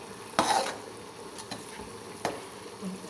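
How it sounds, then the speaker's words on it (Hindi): Carrot halwa is stirred and roasted in desi ghee. A soft, low sizzle sits under a few distinct scraping strokes of a spoon against the pot, quiet and close. "इसको अच्छे से भूनेंगे कि इसका ऑयल ऊपर आ जाए"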